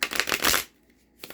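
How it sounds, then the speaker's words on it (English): A deck of tarot cards is riffle-shuffled up close, a loud papery flutter that stops abruptly, followed by a short pause and a couple of soft card taps. "we are only shuffling 5 times"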